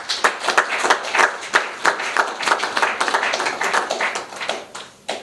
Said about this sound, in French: l'honorable président Eugène Diomi Ndongala, que je demande d'applaudir fortement.